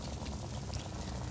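Steady hiss of shower water running in the horror video game Little Nightmares, a continuous low wash with no breaks.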